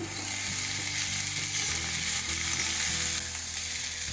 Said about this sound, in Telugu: సిమ్లోనే పెట్టుకొని వేయిస్తున్నాను